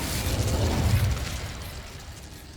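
The Incendio fire spell going off in Hogwarts Legacy, a loud whooshing, crackling burst of flame that swells up at once, holds briefly, then thins out and fades.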